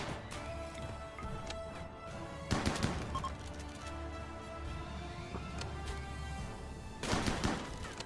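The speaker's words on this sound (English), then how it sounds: "Combat shotgun time." A combat shotgun fires in the video game RimWorld: two sharp, loud blasts a few seconds apart over a steady game background, with no voices.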